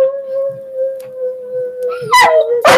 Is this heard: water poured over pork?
no